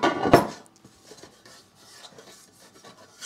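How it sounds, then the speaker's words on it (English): Olive oil being rubbed by hand across the bottom and sides of a metal pizza pan, giving a loud scraping rub at first, then quieter, uneven rasping and swishing strokes close by, with no talking. "I'm just gonna put a little bit of olive oil in the bottom and rub it on the bottom"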